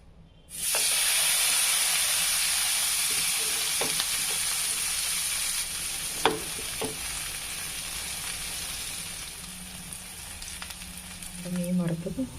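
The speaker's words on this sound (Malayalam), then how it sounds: "വെളിച്ചെണ്ണ നന്നായിട്ട് തിളച്ച് വന്നിട്ടുണ്ട്. അപ്പോൾ നമുക്ക് മീൻ പതുക്കെ അങ്ങോട്ട് ഇട്ട് കൊടുക്കാം." Kingfish pieces deep-frying in hot coconut oil: a sudden loud sizzle bursts in as the fish goes in, then a steady dense hiss continues close up, with a few clinks and stirring taps near the end.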